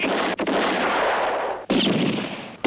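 Loud gunfire from a western film, a sustained roar of shots broken by brief gaps near the start and middle, with no voices over it.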